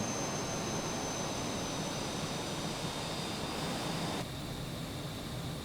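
Steady broadband roar of an airplane engine in a flight simulator game, throttled down, droning continuously with a faint high whine and dropping slightly in level near the end.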